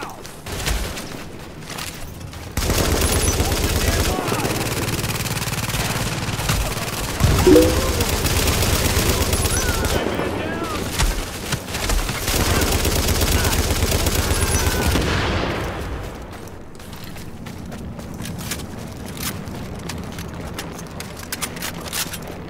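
Dense gunfire in The Division video game, with sustained bursts of rapid automatic shots and mechanical clatter that run loud for most of the stretch, then thin out toward the end.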